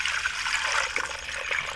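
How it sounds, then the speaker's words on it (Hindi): Thick cow's colostrum, first-day milk after calving, is poured into a kadhai in a steady, continuous liquid pour that stays fairly loud and even, with no talking. "अब मैंने कढ़ाई के अंदर ये दूध डालना है।"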